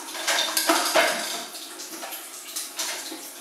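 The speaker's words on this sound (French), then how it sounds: "J'ai qu'à la rincer rapidement." The rotating brush of a Slowstar juicer is rinsed under running water in a sink, with close splashing water and light clattering of plastic parts that comes in a few uneven surges.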